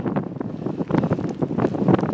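Steady wind buffeting a microphone beside the River Swale, rumbling and gusting in uneven surges throughout, fairly loud with no voices.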